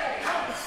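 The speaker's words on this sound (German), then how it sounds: "Und Diego bekommt jetzt hier nochmal richtige Anfeuerung aus dem Publikum." A short burst of crowd cheering and shouting rises for the fighter Diego at a martial arts championship bout, loud and steady for under a second.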